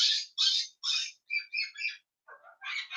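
A pet finch chirps in a run of short, bright, high calls, about eight quick bursts with brief gaps, close and clear with no talk.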